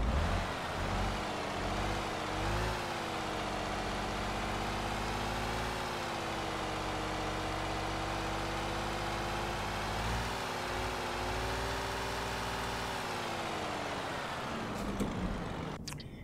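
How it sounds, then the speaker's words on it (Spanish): A heavy truck engine in Euro Truck Simulator 2 turns over and then idles at a steady low rumble for most of the run, close and loud, with a slight rise and fall in revs and a brief air-brake hiss near the end. "ahora sí vamos a encender el motor porque nos fuimos"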